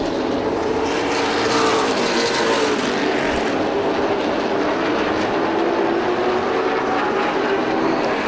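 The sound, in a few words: late model stock cars racing at Motordrome Speedway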